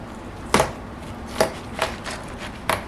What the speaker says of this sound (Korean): 일단 수박을 반 토막을 냅니다